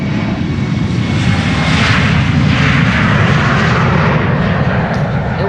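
Jet airliner engines roar loud and steady at close range as a Delta Airlines Flight 57 plane departs Amsterdam Schiphol Airport, a dense broadband rush holding for several seconds with no voices.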